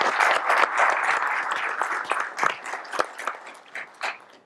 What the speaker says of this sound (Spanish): Un aplauso a Mauricio.